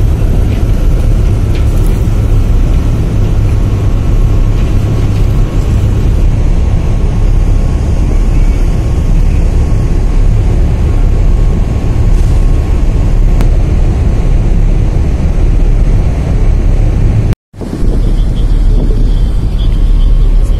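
The ferry KM Dharma Ferry VII gets under way on its Surabaya sea crossing, towed by two tugboats: a steady, heavy low rumble of engines and water runs continuously, cut by one brief dropout near the end.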